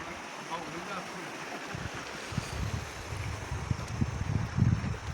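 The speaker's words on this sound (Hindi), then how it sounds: "और ये नीचे को नदी है।" A river flows below a village bridge in Uttarakhand, a steady broadband rush with low rumbling gusts, heard from above at moderate loudness.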